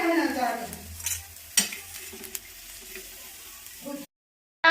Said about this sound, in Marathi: आता मिरच्या टाकल्या ताव्यावर भाजण्यासाठी